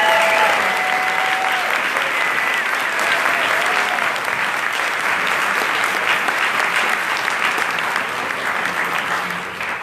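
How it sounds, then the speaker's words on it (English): Conference audience at an evening plenary of an animal rights national conference applauding its speakers, a dense, steady wash of clapping that fills the whole stretch and eases slightly at the end, with a few faint voices mixed in. "can I just get one final applause for all of our speakers here tonight?"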